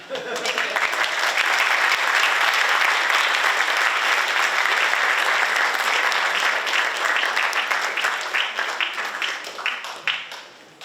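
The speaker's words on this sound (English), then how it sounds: "Somebody's clapping for you, so good job." Sustained applause from an audience at an evening senior thesis presentation event, dense and steady for about ten seconds before thinning and fading out at the end.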